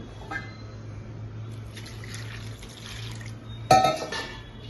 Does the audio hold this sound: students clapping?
no